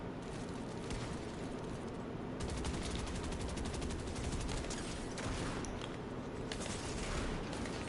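Gunfire in Fortnite, a dense continuous fusillade of rapid shots with mechanical clatter, steady and fairly loud throughout with no voices.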